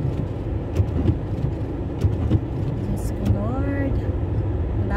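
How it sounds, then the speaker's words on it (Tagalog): Road traffic on a snowy spring day in Calgary, a continuous low rumble of cars with passing engine swells and faint horn-like tones, heard from inside a vehicle. "Traffic po."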